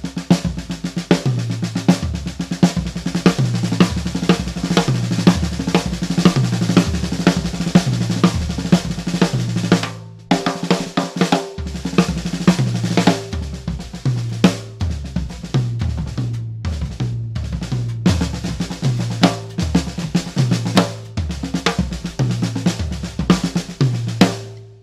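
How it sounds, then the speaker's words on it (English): An inverted paradiddle diddle played on a drum kit as a solo groove: fast, loud and close, with a steady stream of snare and tom strokes, pounding bass-drum accents and a short break near the middle, all without talking. "If we did an inverted paradiddle diddle,"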